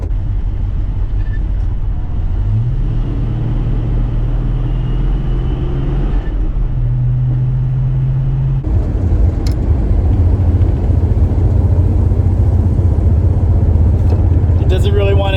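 A 1949 Studebaker Champion drives along, its engine droning loudly and steadily from inside the cabin, the pitch rising as it struggles to accelerate, then a gear change lifts the noise further, with road rumble throughout.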